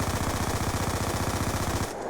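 MP7 submachine gun in Black Ops 2 with no attachments, firing one steady rapid automatic burst of close, loud, evenly spaced shots for about two seconds before stopping abruptly.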